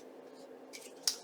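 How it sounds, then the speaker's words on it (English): Scissors give a single quick, faint snip while trimming paper ephemera for a craft side pocket, heard close after a few soft rustles against a quiet room hum. "And then I'm simply going to trim it off."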